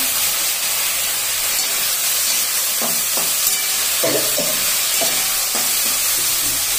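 Green chillies frying in a pan make a loud, close, steady hissing sizzle, with a few brief pops and scraping touches rising out of it and no voices.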